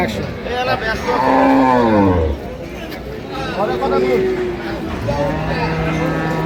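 Dairy cows and calves of an improved milking breed moo at the Ambari cattle market, several long drawn-out calls, one loud and close, with people chattering and bargaining over them.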